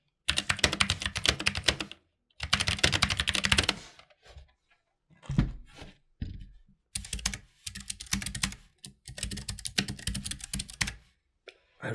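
Typing on a Keychron K3 ultra slim optical mechanical keyboard with thin keycaps, crisp sharp clicks in fast bursts with brief pauses between, close and clear.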